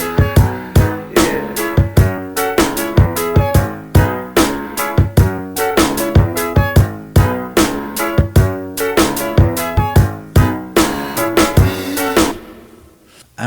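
Programmed hip-hop drum beat built from layered kicks, snares and hi-hats, punchy and loud in a steady looping pattern that stops abruptly near the end, with no voices.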